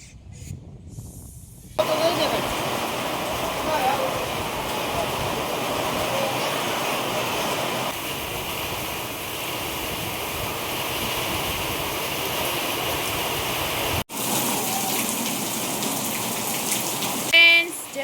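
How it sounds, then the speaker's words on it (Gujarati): Steady morning rain falls continuously, a dense hiss of drops on surfaces, briefly cut off near the end before resuming. "સવાર સવારમાં વરસાદ ચાલુ થઈ ગયો છે"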